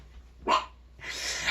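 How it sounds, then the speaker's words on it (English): Two short dog barks sound through a wall, the first a sharp, close yelp and the second a longer, rougher bark, with no talk over them. "That just might make the dogs bark"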